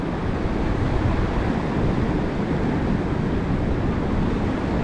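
Ocean surf on a beach under tough conditions makes a constant, loud wash of breaking waves, a dense hiss and roar with wind and no talk.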